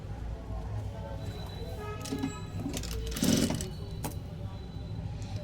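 A sewing machine stitches the hem of a four-tuck blouse, its steady mechanical whir and needle chatter running continuously and close, with a brief louder burst partway through.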